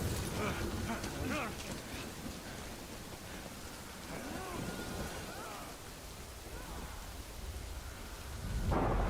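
Steady rain with rolling thunder in the video game Death Stranding, a dense wash of downpour throughout with low rumbles, and a louder swell near the end.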